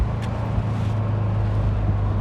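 A 2003 Mercedes SL55 AMG engine drones steadily from inside the car while driving at constant throttle, a low, continuous rumble with road noise and no breaks.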